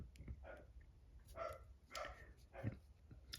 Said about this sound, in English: Sorry if you can hear dogs barking.